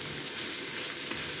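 Quail curry with green chilies and curry leaves being stirred in a pan, a dense continuous sizzle with soft scraping, close and fairly loud.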